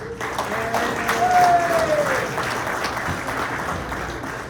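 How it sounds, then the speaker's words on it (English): Applause from an audience at a city mayoral update event rises briefly and holds steady, moderately loud in a large room, with a faint high tone crossing midway. "Please give her a round of applause."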